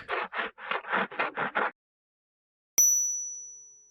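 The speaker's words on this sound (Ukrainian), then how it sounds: "пролунав третій дзвоник." A theatre's third bell gives a single bright ring that rings on and slowly fades, following a run of short rough bursts and a brief silence.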